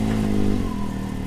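A 2022 Can-Am X3 DS Turbo UTV engine, freshly fitted with a new primary drive, runs close and loud with a steady low harmonic drone and a slight rise in pitch midway, alone without talk.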